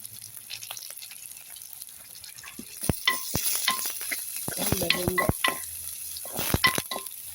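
Chopped onions and curry leaves frying in a pan, a steady sizzle broken by metal clinks and stirring scrapes of a spoon against the pan, growing busier midway, with no voices.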